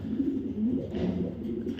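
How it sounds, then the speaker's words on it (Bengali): A male Green Neck Budapest racing pigeon coos steadily at close range, a low continuous rolling burble with no voices over it. "এটা একটা নর কবুতর ভাই"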